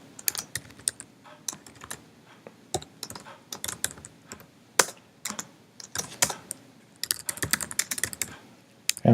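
Code typed on a computer keyboard, close, irregular bursts of crisp key clicks with short pauses between words, no talking.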